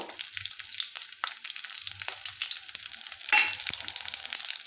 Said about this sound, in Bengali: কালো জিরে রসুন আর কাঁচা লঙ্কাটাও আমি দিয়ে দেবো এই দেখুন দিয়ে এটা আমি ভালো করে ভেজে নেব